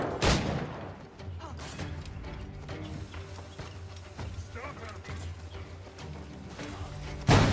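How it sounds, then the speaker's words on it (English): Gunfire in Assassin's Creed IV Black Flag: a rapid, dense run of shots and impacts over a rumbling game battle, with a loud burst at the start and another at the end. "Just keep on shooting."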